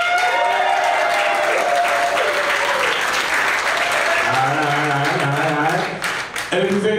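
A comedy club audience at the San Jose Improv claps and cheers loudly and continuously, with a few whoops rising over the dense applause near the end.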